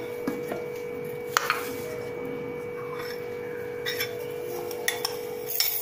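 A warm mixture of roasted flaxseed, peanuts and sesame is stirred together in a pot, making light, scattered clinks of a utensil against metal over a quiet background.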